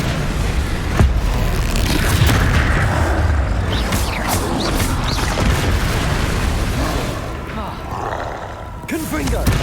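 Spell blasts and booming impacts from Confringo and Expelliarmus casts in combat in Hogwarts Legacy, loud and continuous with roaring creature sounds, rumbling explosions and layered effects throughout.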